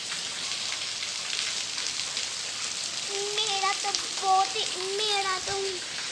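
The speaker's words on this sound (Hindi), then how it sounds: "अल्लाह ने इतनी तेज बारिश की" Heavy rain falls steadily as a dense, even hiss throughout, with a person talking partway through.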